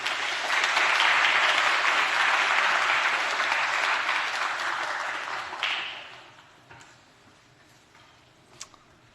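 An audience at a lecture-series talk welcomes a lecturer with sustained applause, loud and dense clapping for about five seconds before it thins out and fades to a few scattered claps.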